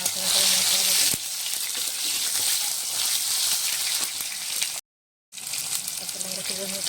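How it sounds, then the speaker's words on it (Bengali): Tomatoes dropped into a cumin-seed tempering in hot oil, cooking a thin tilapia and potato broth, set off a loud, steady sizzle and crackle that runs almost unbroken, with a brief drop to silence near the end. "জিরার মধ্যে ফোড়নে আমি টমেটো দিয়ে দিলাম"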